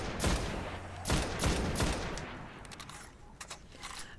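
Rapid bursts of scout rifle fire from the Vision of Confluence raid weapon in Destiny, loud volleys crackling in clusters early on and thinning into fainter scattered shots and distant echoes toward the end, with no talking.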